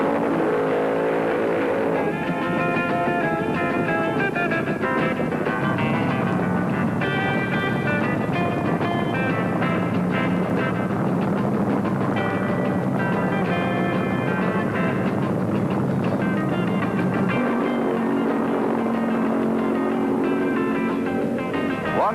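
Top fuel dragsters at the 1973 IHRA Northern Nationals, first round of fuel eliminations. A sustained, loud engine roar runs continuously for over twenty seconds, its pitch shifting as the cars run down the strip.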